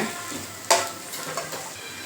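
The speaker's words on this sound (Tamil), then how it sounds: "இப்போ நம்ம பவுட்ரு அரைச்சி வச்சுருக்கோம்ல அதை போட்டுக்கலாம் போட்டு நல்லா கிண்டி விடுங்க" Potato fry being stirred in a pan after ground masala powder goes in, a soft continuous sizzle broken by a sharp scrape of the spoon and a lighter second stroke.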